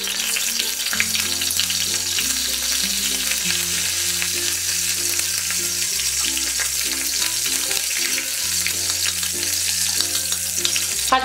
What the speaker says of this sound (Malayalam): ഉലുവ പൊട്ടി വരുമ്പോഴേക്ക് ഇതിലേക്ക് പച്ചമുളക് ഇട്ട് കൊടുക്കാം